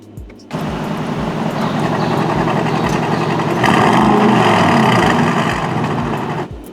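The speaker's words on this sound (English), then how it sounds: "Press that, and that exhaust will now open up." An Aston Martin DBX 707 engine runs with its exhaust valves open: a loud, deep, continuous rumble that swells into a stronger roar partway through, then cuts off abruptly.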